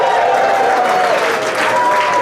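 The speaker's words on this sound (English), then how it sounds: "Make some noise if you're here on a date." Live improv comedy audience breaking into loud, sustained applause and cheering, a dense wash of clapping and whoops from a large crowd lasting throughout.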